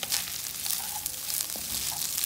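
Egg and rice frying together in a pan for Indonesian nasi goreng, a steady close sizzle with faint stirring scrapes and no talk.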